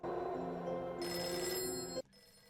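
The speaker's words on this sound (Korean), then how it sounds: "곧이어 걸려온 전화." A telephone rings loudly and steadily for about two seconds, then cuts off abruptly, followed by quiet.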